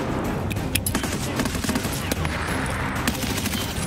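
Video game gunfire: rapid, dense bursts of shots crackle loudly and continuously throughout, with sharp individual cracks standing out from the sustained volley.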